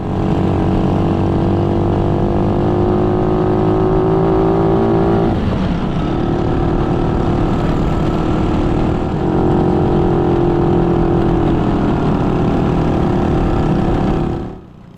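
Group of motorcycles including a YX 140 bike riding in single file, a loud continuous engine drone with steady harmonic whine, a brief shift in pitch midway, close and dominating throughout with heavy wind rush.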